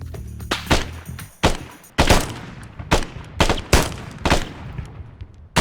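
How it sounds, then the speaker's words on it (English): Gunfire in the game Arma 3 during an assault on Kavala: sharp, loud single shots and short bursts at irregular intervals, some close and some slightly distant, with no talk. "Look, are you shooting?"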